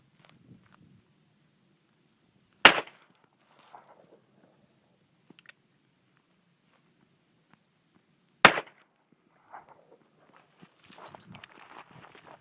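A kid fires a revolver outdoors, and two sharp, loud bangs ring out about six seconds apart. Faint footsteps and light rustling fill the quiet stretches between and after the shots.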